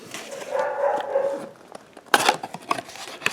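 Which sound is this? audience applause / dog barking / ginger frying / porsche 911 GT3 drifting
dog barking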